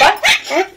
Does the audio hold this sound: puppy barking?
yes